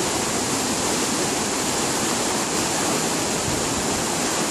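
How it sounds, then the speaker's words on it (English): A waterfall on a Michigan river roars as a steady, loud, broadband rush of falling water, constant and unbroken for the whole stretch with no voices over it. "This waterfall is amazing."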